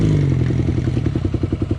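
A low-clearance motorcycle rides a rough, difficult hill road: a close, loud engine throb pulses rapidly and steadily, with clatter and thumps from the bumpy surface and no talk.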